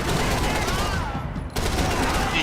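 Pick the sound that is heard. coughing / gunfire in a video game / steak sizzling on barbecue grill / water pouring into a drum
gunfire in a video game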